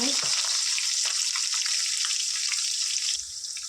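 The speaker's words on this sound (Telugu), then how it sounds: "జీరా వేడయ్యాక ఇందులో మీడియం సైజ్ టూ ఆనియన్స్ వేసుకున్నా" Two medium onions drop into hot cumin in a pan and fry with a steady, close, hissing sizzle that holds evenly throughout and eases slightly near the end.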